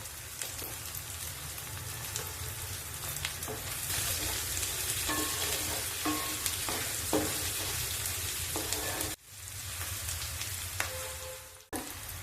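Chopped onions frying steadily in oil in a pan for a curry with asafoetida, a dense continuous sizzle with occasional stirring scrapes, close and loud, briefly dipping near the end.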